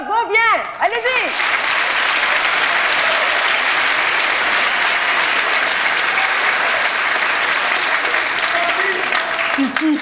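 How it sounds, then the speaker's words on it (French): A studio audience at a 1996 Quebec comedy show claps and cheers in a steady, full wash of applause, with a voice briefly heard at the start and end. "j'aimerais ça que tout le monde ici ce soir, on donne une bonne main d'applaudissement à Monsieur Jean-François Beaubien."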